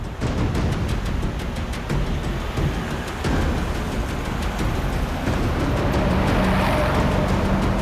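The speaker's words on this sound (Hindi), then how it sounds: "सर इसने गाड़ी तो जगत नगर की तरफ मोड़ ली" A car drives fast through a deserted area during a police chase, its engine a loud, steady roar with hints of tire noise filling the whole stretch, mixed with dramatic background score.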